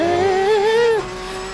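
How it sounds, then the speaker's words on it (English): A Porsche 992 GT3R race car engine in Assetto Corsa Competizione hums with a tonal drone that rises and wavers slightly, then drops to a lower steady note after a second, heard alone. "can hear the engine going"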